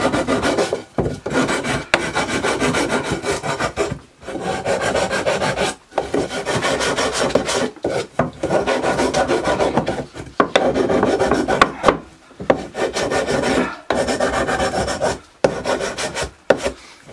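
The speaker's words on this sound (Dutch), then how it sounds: "En ook die kopse kanten ga ik allemaal even schuren." Hand sanding of the end grain on wooden planks made for a hallway shelf, a steady close rasping rub in repeated strokes of a second or two each, separated by brief pauses, with no voices.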